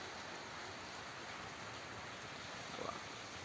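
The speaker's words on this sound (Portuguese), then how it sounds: "Aqui a chuva pegou de surpresa, vou ter que tirar ali a, a forja minha da chuva" Rain falls steadily on an outdoor forge workshop, a constant dense hiss of drops with a brief faint clatter near the end.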